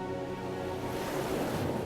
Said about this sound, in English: At the shoreline, the waves erode and shape this volcanic rock.